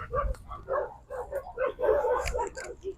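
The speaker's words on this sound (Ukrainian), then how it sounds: "там собаки гавкають" Several dog barks ring out in short bursts, mixed with people talking nearby; the barking sounds moderately close.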